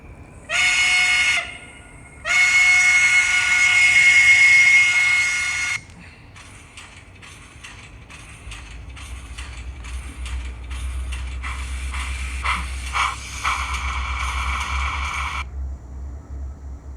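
Hornby 0-4-0T Pug model locomotive with a TCS WOW steam sound decoder and keep-alive: two loud whistle blasts, then rhythmic chuffing that quickens over a low motor rumble, close and free of speech.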